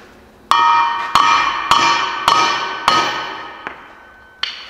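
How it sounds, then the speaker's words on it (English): Hammer blows pounding a bolt while changing spindle bearings on a Hustler mower, six sharp metallic strikes at a steady rhythm with ringing decay, the last two lighter, close and loud with no talk. "I'm getting afraid now to pound the bolt"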